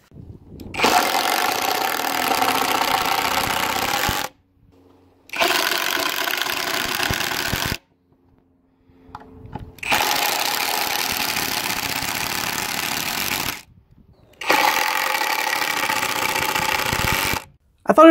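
A Kimo brushless impact driver runs in four separate bursts of several seconds each, a loud buzzing hammer whir close up, separated by short silent pauses.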